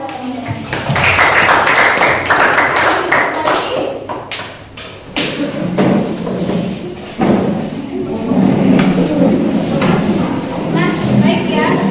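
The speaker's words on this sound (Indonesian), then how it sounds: "Tepuk tangan buat teman-teman." A classroom gives its classmates a round of applause, a dense patter of many hands clapping loudly together for several seconds, mixed with voices talking through it.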